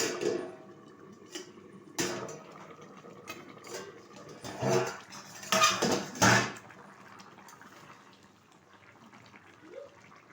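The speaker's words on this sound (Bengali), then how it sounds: "ঢাকনাটা তুলে দিচ্ছি" A cooking pot holding fish curry with taro and potatoes has its lid lifted off, giving a few close metallic clanks and rattles in short bursts, then a soft simmering background, with no talking.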